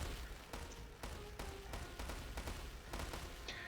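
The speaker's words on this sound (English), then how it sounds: "He's TC just gets bombarded with bombardier ships" Bombardier ships pound a town centre in a real-time strategy game, a run of sharp explosive thuds landing roughly every half second over a steady rumbling battle bed, with a brighter impact near the end.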